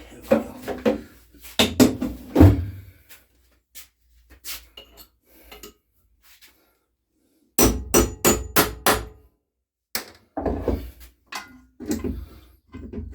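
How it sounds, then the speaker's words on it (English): Loud, sharp hammer blows strike metal on a vintage Webb petrol lawnmower in irregular bursts, several quick hits at a time, separated by short pauses. "let me get that hammer, where is it?"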